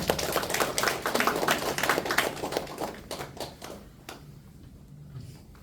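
Lecture audience clapping warmly for a guest invited up to share her story, a dense burst of many hands that thins out and fades after about four seconds.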